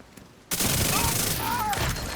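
A sustained loud burst of automatic gunfire in The Division 2, starting abruptly after a quiet moment and continuing in a dense, rattling stream to the end.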